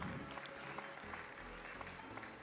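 Faint, distant applause from spectators at a Blonde d'Aquitaine cattle breeding competition, soft and brief under a low background hum.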